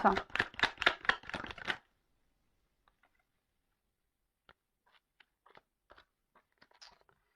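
Tarot cards riffled briskly in a short burst, then a quiet pause broken by faint scattered taps and slides as cards are laid down for a nine-card spread.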